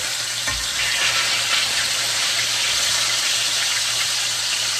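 Pork chops frying in a pan give off a steady, close, bright sizzle that holds evenly throughout, with a faint low hum beneath and no talking.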